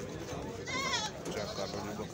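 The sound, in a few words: goat bleating at livestock market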